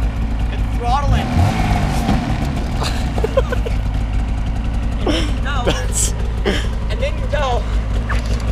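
A snowmobile engine starts and revs up under throttle, rumbling steadily and close by in a snowy outdoor setting, with people talking over it and a few high sharp noises along the way.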